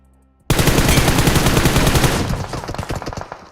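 Automatic gunfire in the mobile battle-royale game PUBG Mobile bursts in suddenly after a brief quiet, a loud rapid stream of shots that holds for about two seconds, then thins into scattered individual cracks.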